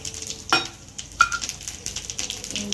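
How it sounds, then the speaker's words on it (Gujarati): Cumin seeds dropped into hot oil for jeera rice. A sharp burst of sizzle comes first, then quick, uneven crackles and pops that settle into a steady sputter. "તેલ ગરમ થઈ ગયું છે. આપણે જીરા રાઈસ કરવા માટે જીરું નાખીશું"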